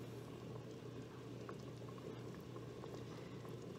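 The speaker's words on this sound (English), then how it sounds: "There we go, it's bubbling nice." Strawberry honey jam boiling in a pot, a steady soft bubbling and popping that runs continuously, fairly quiet and close, with no talking.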